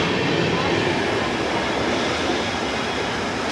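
The Ranchi–New Delhi Rajdhani Express rushes past during an overtake, a continuous loud rumble and rattle of rolling coaches heard close up from a moving train.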